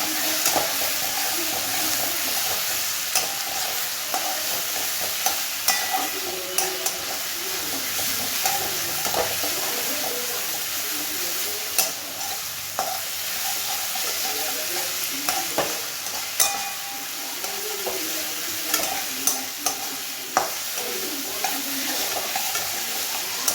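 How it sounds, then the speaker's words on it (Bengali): Tomato, green chilli and ginger paste being stir-fried for a chicken curry, a steady dense sizzle with frequent scraping and stirring clicks from the pan throughout, close and continuous with no talk. "টমেটো, কাঁচা লঙ্কা আর আদা পেস্টটা দিয়ে এবার ভালো করে জিনিসটাকে কষাবো।"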